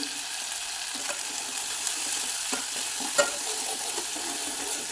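Turmeric and spice masala, with curry leaves, being stirred in a pan: a soft continuous sizzle with faint scraping strokes of the spoon and a few light clicks.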